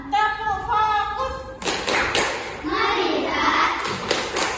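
A classroom of children performing a rhythmic focus clap together after a teacher's spoken cue, sharp group claps and thumps ringing out close by alongside chanting voices.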